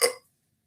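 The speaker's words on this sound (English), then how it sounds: "That was a hiccup, by the way." A single short hiccup, sharp and close, then silence.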